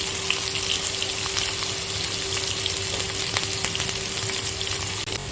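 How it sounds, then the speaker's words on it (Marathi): Finely chopped onions sizzle steadily in hot oil with mustard seeds, a dense, continuous crackling fry heard close with small pops and spoon taps throughout. "त्याच्यात राई टाकून घेतली कांदा टाकतो"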